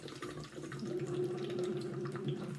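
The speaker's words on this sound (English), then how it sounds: "is just blow some bubbles" Bubbles blown through a straw into water during a vocal exercise, with a steady voice tone hummed underneath a continuous close, burbling gurgle throughout.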